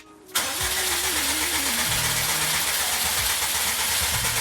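An engine-swapped Subaru WRX STI cranks briefly and fires on its first start, then settles into a loud, steady, slightly rough idle that continues close by without a break.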